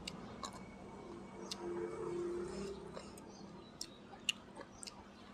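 Crunchy pickled light mango being chewed close up, a faint steady mush of bites with a few sharp crisp cracks scattered near the end, quiet overall.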